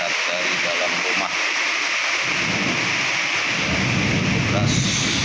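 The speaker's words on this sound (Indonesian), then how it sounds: "Deras ya, di depan rumah itu ya, hujan ya, turun mengenangi halaman rumah itu ya, cukup deras," Heavy late-afternoon rain pours steadily onto a house's front yard, heard from indoors as a dense, loud hiss with deep thunder rumbling underneath.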